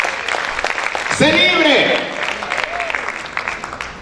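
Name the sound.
congregation applauding in church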